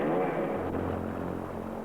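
A Wankel rotary aircraft engine drones steadily with a smooth, even tone, moderately loud and continuous without any talk.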